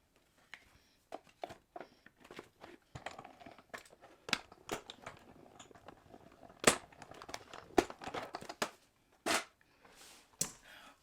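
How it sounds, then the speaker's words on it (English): An embossing machine cuts card stock for a handmade tunnel card, giving irregular crisp crackles, clicks and crunching pressure sounds close by, with no talking. "let's just bring in our embossing machine and let's just get this cut"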